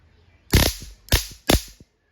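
A 50,000-volt handheld self-defense stun gun fired in three sharp crackling bursts, each a loud snapping discharge lasting a fraction of a second, with short gaps between them and close to the microphone.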